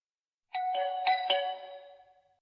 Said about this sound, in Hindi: घर की बेल बजाओ ना